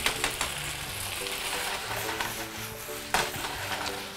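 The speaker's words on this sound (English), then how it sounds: "I still like to stir it so often, because you want to break up that pesto" Pesto fettuccine sizzles and fries in a hot pan while being stirred, a dense crackling hiss with scraping stir strokes and a sharper clack near the end, close and without talk.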